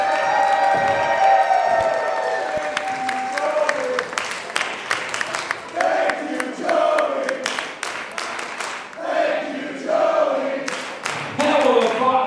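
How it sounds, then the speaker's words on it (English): A wrestling crowd at a Timebomb Pro Wrestling show cheers and claps loudly, with shouts, whoops and sharp thuds rising and falling in waves throughout, a boisterous arena roar. "as you can hear, already has the respect of the wrestling crowd."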